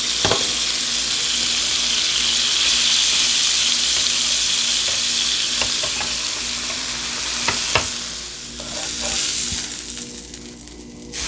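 Crab and rice frying in a pot for Bahamian crab and rice, with a steady close sizzle and crackle throughout, a few sharp clinks of stirring near the end.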